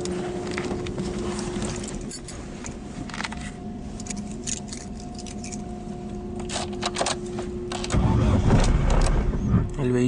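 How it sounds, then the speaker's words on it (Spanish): A Chevy car engine starts with a brief rising surge near the end, after a steady whine and some small rattling and clicks inside the car. "El vehículo enciende."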